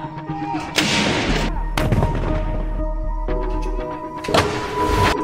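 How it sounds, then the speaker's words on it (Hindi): Cannon salute fired in tribute to Queen Elizabeth II: loud, booming blasts in sequence with rumbling echoes and crowd-like background noise between shots. "महारानी की इसी छवि की बदौलत दुनिया भर के देश उन्हें तोपों की सलामी के साथ"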